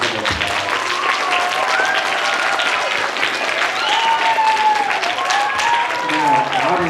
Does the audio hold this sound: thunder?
no